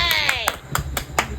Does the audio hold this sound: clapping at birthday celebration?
yes